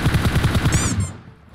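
Rapid automatic gunfire in PUBG Mobile, heard as a loud, close burst of about a dozen evenly spaced shots that ends abruptly and fades into a brief ringing tail.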